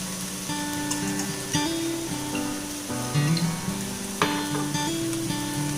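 Chicken fried rice sizzles steadily in a pan while it is stirred, a continuous frying hiss under background music.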